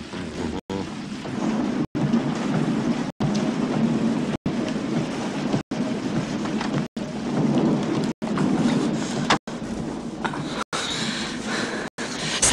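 Heavy rain pours steadily, mixed with deep rolling thunder in an Iranian film scene. The downpour sounds close and dense, broken only by a few brief cuts.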